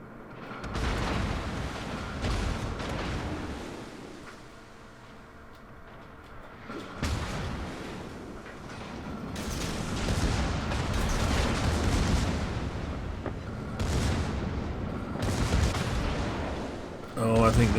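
Incoming turret rounds and shell explosions in a naval combat video game during a torpedo run, a dense stretch of booming impacts and gunfire bursts that swell and fade, with a loud blast near the end.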